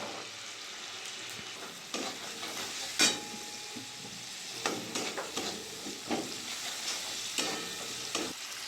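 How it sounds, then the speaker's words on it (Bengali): Oil sizzles continuously in a pan as shelled green peas fry for a cabbage dish, with scattered pops and occasional stirring scrapes; no one speaks. "কড়াইশুঁটি ছাড়িয়ে রেখে দিয়েছিলাম, দিয়ে দেবো তেলের মধ্যে"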